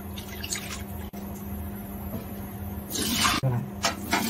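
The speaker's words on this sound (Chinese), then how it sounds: "放啲面粉落去咧，就咁洗下佢就好干净噶啦" Oysters being scrubbed clean in water with flour in a home kitchen, a soft steady wet sloshing and swishing close up, rising into a louder splashy stretch near the end.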